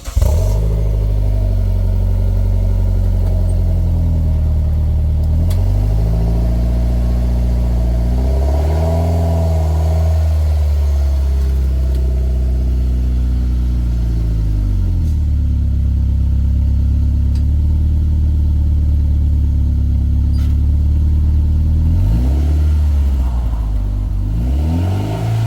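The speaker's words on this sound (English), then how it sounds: "this is the sound of what the exhaust sounds like with the silencer that comes with it" A Mitsubishi Lancer Evolution X with an HKS catback exhaust and its silencer fitted idles with a deep, steady burble, then rises through several loud revs that fall back to idle, close and alone.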